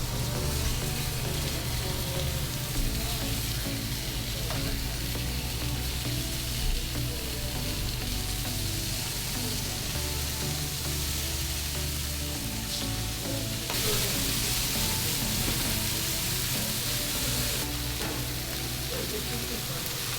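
Steady, loud sizzling of beef frying on a restaurant flat top grill, a dense crackling hiss continuing throughout with occasional scraping.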